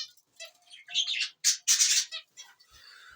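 Rainbow silkie chickens kept in a cage make a string of short, high chirps and squawks close by, in uneven bursts with brief gaps, louder toward the middle and fading at the end.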